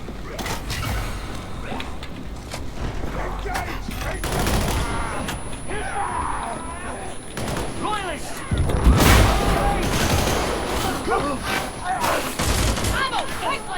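Plasma gun fire in the shooter Warhammer 40,000: Darktide, dense bursts of loud gunshots and booms layered with other combat noise, with voices calling out over the shooting.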